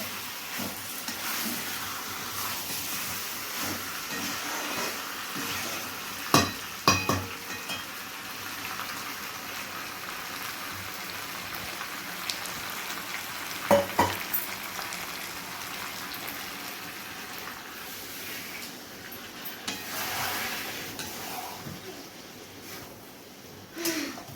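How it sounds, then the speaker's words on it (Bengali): Potatoes sautéed with mutton curry in a pan give a continuous soft hissing sizzle, with a few brief clatters of stirring now and then. "আলুগুলো দিয়ে ভালো করে একটু কষিয়ে নেওয়া হচ্ছে"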